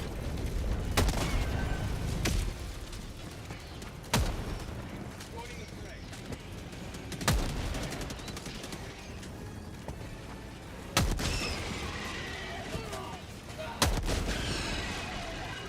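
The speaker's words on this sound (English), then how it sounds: "Calling in orbital strike" Heavy orbital strike explosions and scattered gunfire in a Helldivers 2 battle on the hardest difficulty: several loud, sharp blasts spaced a few seconds apart with rumbling tails. Chatter continues throughout.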